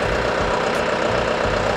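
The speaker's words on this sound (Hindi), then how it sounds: "ट्रैक्टर को मैं चालू कर दिया।" Yanmar 348a tractor engine idling at a standstill, a steady close diesel rumble with a low, even knocking pulse running through the short stretch, with no talk.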